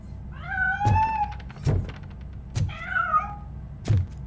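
A cat meows in Robocop: Rogue City, two drawn-out wavering cries, the second starting near 2.8 s. Sharp thuds and knocks fall between them in a quiet interior.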